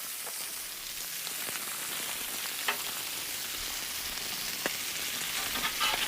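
Burgers sizzle and crackle in a hot pan, a steady bright hiss with occasional pops and a scrape or two, close by and with no talking.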